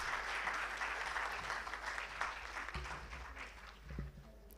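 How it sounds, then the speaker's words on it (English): Audience applause at a government ministry event felicitation ceremony, a soft wash of clapping at a distance, fairly quiet and thinning toward the end. "Can we have a huge round of applause?"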